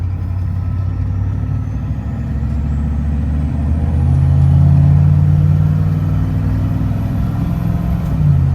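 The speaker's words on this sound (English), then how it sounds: "the turbo whine on it's good. It's fun to listen to." A Case 1030 tractor rumbles along under way, its turbocharged engine droning steadily and swelling louder midway, with a thin rising turbo whine drifting above the low engine note; no one talks.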